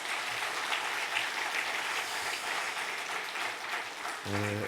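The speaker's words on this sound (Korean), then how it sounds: "우리 힘찬 격려의 박수 한번 보내주시겠습니다." A church congregation at an autumn dawn revival service applauds in a steady, moderate round of clapping, with a brief voice at the end.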